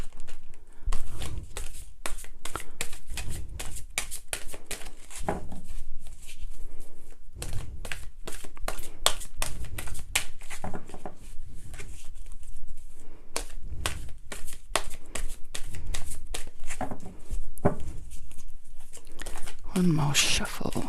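Tarot cards being shuffled by hand, a long run of dense crisp riffling and flicking bursts close to the mic, continuing in waves with short pauses.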